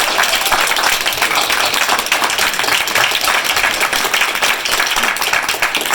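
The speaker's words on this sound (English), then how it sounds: "everybody please, huge round of applause for our volunteer team" A convention audience gives a sustained, dense round of applause for the volunteer team, steady and loud throughout with no voices over it.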